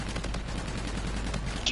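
Rapid gunfire from a Vigilance gun in a video game, a quick run of repeated shots that is moderately loud and lasts under two seconds.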